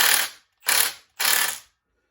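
A Precision Instruments torque wrench set to 65 foot-pounds ratchets in three quick, even bursts up close, with short pauses between them and no voices.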